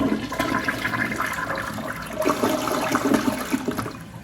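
A Project Source Pro-Flush white dual-flush elongated chair-height two-piece toilet flushes on its second button, a close, continuous rush and gurgle of water lasting several seconds with no talking.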